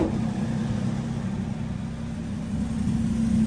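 A barn find car, revived after 33 years, runs on a test drive with a steady, close engine drone that swells slightly toward the end.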